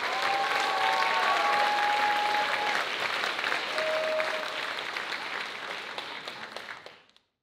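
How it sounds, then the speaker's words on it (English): Sustained applause from the audience at a Vietnamese Culture Night held by UCSD's Vietnamese Student Association, a dense wash of many hands clapping with a few faint whistles, steady and loud before fading out at the end. "Let's give them all our sponsors a big warm round of applause"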